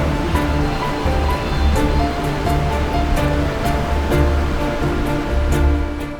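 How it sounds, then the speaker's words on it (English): Victoria Falls on the Zambezi River, a loud continuous roar of falling water, dense and steady, with faint rhythmic ticking and tonal music layered over it. "During peak flow, over 500 million liters of water pour over the edge every minute."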